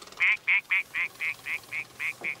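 A duck quacks in a quick run of about ten evenly spaced, loud, nasal calls, close and clear.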